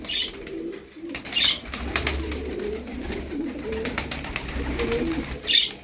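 Pigeons coo softly and repeatedly at close range, with occasional bursts of wing flutter and faint chirps; no one speaks.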